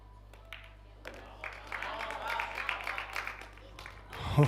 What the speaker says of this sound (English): The Spanish are cheering.